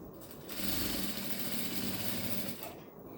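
A sewing machine runs in one continuous whirring burst of about two seconds while stitching the corner of a Seminole-patchwork rug, then slows and stops. The sound is close but fairly quiet.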